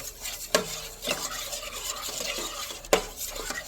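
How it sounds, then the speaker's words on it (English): A spoon stirs half and half into a mixture in a bowl, giving a close, continuous swirling scrape punctuated by two sharp clinks against the side. "I'll go ahead and add a little more, half and half, to there, and just go ahead and stir it up a little bit more"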